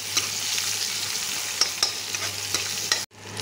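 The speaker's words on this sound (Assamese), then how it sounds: "এতিয়া পিঁয়াজখিনি ধুনীয়াকৈ সিজাই লওঁ ৰঙচুৱা হোৱালৈকে" Finely chopped onion sautéed in oil until reddish-brown, a dense continuous close sizzle with occasional scraping stirs, cut off briefly near the end before resuming.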